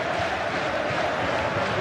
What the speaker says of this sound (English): Plenty to shout about. Loads of applause.